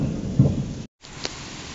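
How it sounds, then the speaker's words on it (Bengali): Heavy downpour with thunder heard outdoors, a loud steady roar of rain carrying a low rumble, cut by a brief silent gap before the rain noise resumes. "দেখো কি জোরে বৃষ্টি হচ্ছে,"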